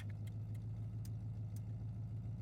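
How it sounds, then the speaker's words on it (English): A Triumph Stag V8 engine idles with a microphone mounted in the bumper overrider, giving a steady, close, low rumble throughout with a few faint ticks above it and no talking. "you want to hear the engine"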